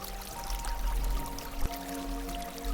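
Water pours and gurgles over rocks in a mountain river, a steady close rushing flow with a faint tonal hum running underneath.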